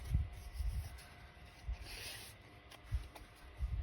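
Paper trimmed for a handmade garden journal, with faint, close scraping and rubbing strokes, several short passes at an uneven pace and a few soft bumps, quiet and without talk.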